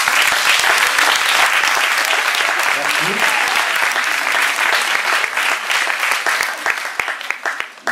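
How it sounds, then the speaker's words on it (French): Loud, dense audience applause at an evening community gathering fills the room for about eight seconds, with a few voices calling out faintly beneath it before it thins out at the end. "qu'on peut applaudir déjà bien fort"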